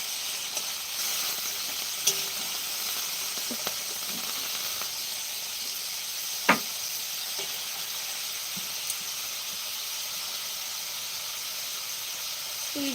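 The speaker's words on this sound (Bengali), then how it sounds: "ফুলকপির ঝোল করছি ফুলকপি আলু নিরাম ঝোল" Cauliflower and potato curry sizzling steadily in a pan, a constant bright hiss with occasional soft pops and a single clink of a utensil, no voices.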